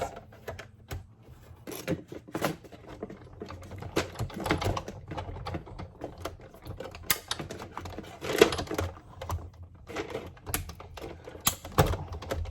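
A die cutting machine runs Tim Holtz dies through on a cluttered craft desk, making an irregular stream of clicking, clattering mechanical rattles, close and moderately quiet, with no talking over it.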